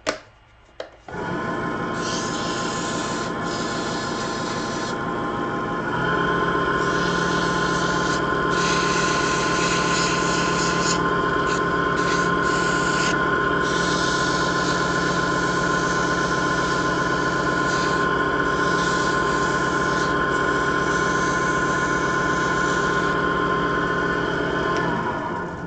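A wood lathe spins a live-edge red oak bowl turned from firewood, running backwards; the motor starts up after a short pause, hums steadily, then settles into a louder, denser whir that continues to the end.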